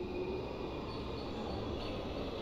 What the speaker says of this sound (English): And we got trains coming and going.